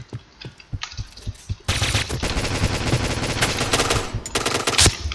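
Rapid sustained bursts of P90 submachine gun fire in the online shooter Point Blank, loud and continuous after a few sparse earlier shots, with no talk over it.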